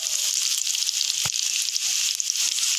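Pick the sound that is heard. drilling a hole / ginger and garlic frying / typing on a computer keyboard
ginger and garlic frying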